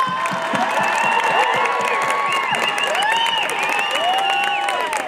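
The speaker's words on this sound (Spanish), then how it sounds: "Échenle más aplausos porque si no, no se va a subir al escenario." At a fair stage show, a crowd applauds and cheers loudly as a performer is called up, dense clapping mixed with shouts and whistles sustained throughout.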